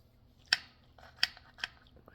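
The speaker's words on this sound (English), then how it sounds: "So I'm gonna cut a piece and get in there." A knife cuts into a homemade lasagna, giving three sharp, close clicks and scrapes against the pan at steady intervals over a quiet background.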